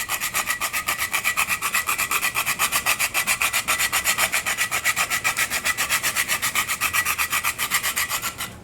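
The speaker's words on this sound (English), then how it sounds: "I've got just a whole nutmeg here and a tin nutmeg grater, and I'm going to shave some nutmeg into our applesauce" Whole nutmeg shaved on a tin nutmeg grater, a steady rhythmic rasping of about three strokes per second, close and fairly loud, with no voices.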